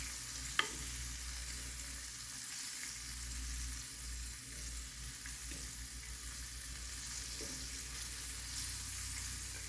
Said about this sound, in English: I need to kick this heat up a notch so it can fry up pretty good.